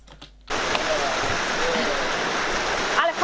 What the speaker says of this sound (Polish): Tylko wbiegłam pod rynnę i woda na mnie kapała